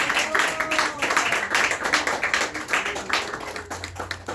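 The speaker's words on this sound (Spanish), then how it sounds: "Dar ese aplauso al Señor." Church congregation in an evening service clapping together, rhythmic and fairly close, with some voices mixed in over the applause for its whole length.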